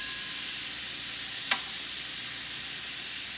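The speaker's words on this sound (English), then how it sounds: "we're going to use that same surface to fry up the onions" Onions fry in bacon fat in a pan, a steady soft hiss and sizzle throughout, with one brief sharp crackle near the middle.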